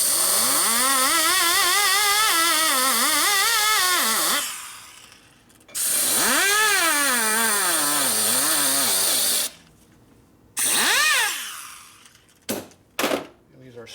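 Valve seat cutter working a Harley Sportster 1200 cylinder head, a powered tool whining loudly in long sweeping bursts with rising and falling pitch, separated by short pauses and ending in brief spurts.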